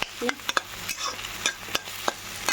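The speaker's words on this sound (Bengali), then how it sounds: "ডিমটা দিয়ে ভালো করে একটু নেড়ে নেবো" Egg being stirred in a frying pan while cooking a quick meal at home, with a soft sizzle of frying and scattered light scraping knocks of the utensil against the pan, close and fairly quiet.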